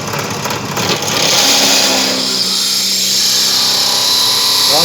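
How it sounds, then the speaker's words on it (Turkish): A diamond-tipped carbide drill bit whines at high pitch while boring dry into hard steel, a loud continuous screech that steadies after a second, close up. "delen şu an karbon matkap elmas uçlu, yani o bilene çok zorluyor"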